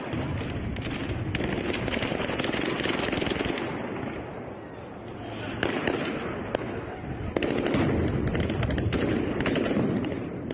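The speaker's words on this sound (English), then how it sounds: "Russian troops used gunfire and stun grenades to break up Ukrainian protesters" Dense crackling bursts of gunfire with sharp bangs of stun grenades scattered throughout, as Russian troops break up Ukrainian protesters in Kherson, over a roaring crowd-like background, loud and continuous.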